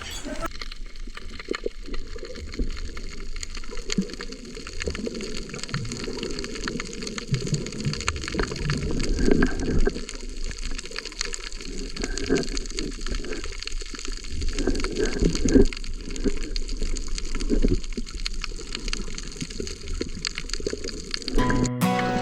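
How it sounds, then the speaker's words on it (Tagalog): Continuous underwater rush of water and bubbling while swimming and spearfishing in the sea at night with a flashlight, a steady close churning wash with brief louder surges throughout. "Patuloy lang ako sa aking paglangoy at naghahanap ng mapapana."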